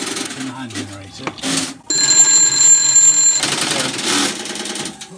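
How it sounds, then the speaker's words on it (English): An old telephone exchange rings a phone at the far end after voice-frequency signals are sent, giving a steady electric bell ring with a high metallic tone that lasts about a second and a half. Talk and room noise come before and after it. "Send the VF signals over and ring the phone at the other end."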